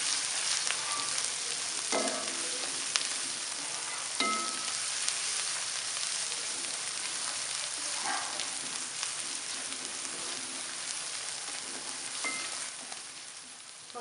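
Turmeric, coriander powder and salt roast in a pan for fish curry, giving a continuous soft sizzle with a few faint scrapes and taps of a spoon scattered through it.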